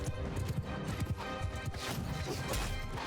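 Horse hooves from a battle in Mount & Blade II: Bannerlord, a dense jumble of clattering hoofbeats and thuds amid combat noise, moderately loud with no talk.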